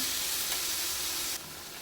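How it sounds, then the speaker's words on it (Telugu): Tomato curry with salt and chili powder is stirred in a pan over the heat, giving a steady, close, loud sizzle and hiss that drops slightly in level near the end, with no talking. "ఉప్పు కారం వేసిన తర్వాత కలుపుకుందాం"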